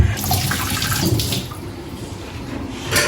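Tap water runs steadily into a sink while boneless beef is rinsed under it, a close, continuous splashing with brief louder surges.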